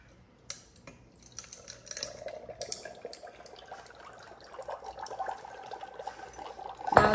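Cold water poured from above, a quiet trickle and splash that starts sparse with scattered drips and builds into a fuller, louder stream toward the end.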